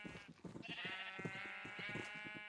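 Several sheep in the video game Minecraft bleat in overlapping, wavering calls that run continuously at moderate volume, with no talking.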